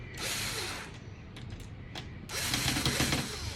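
Screws are snugged down during a Nintendo 64 console rebuild, a close dry ratcheting whir of a screwdriver in two bursts separated by a short pause with faint clicks, no voices present.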